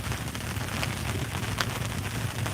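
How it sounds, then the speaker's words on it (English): Rain falling outdoors in the woods, a dense steady patter of drops on surfaces with occasional louder taps, fairly faint and continuous, with no talking. "It's starting to rain pretty good"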